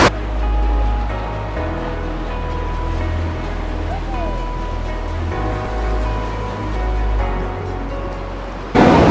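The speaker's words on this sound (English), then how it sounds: "we've got to cross the river again. Ewan's already across because he goes before we even notice. And now we get very wet" People wade across a jungle river, and the water splashes and churns loudly and continuously around their legs under a deep, rumbling flow, with voices faintly present.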